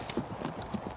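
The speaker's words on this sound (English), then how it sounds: "Leading exhausted horses single file through a brushy bottom" Exhausted horses walk single file through a brushy river bottom, their hooves clip-clopping in a few soft, evenly spaced thuds, fairly close and moderately quiet.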